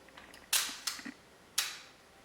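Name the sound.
camera shutter click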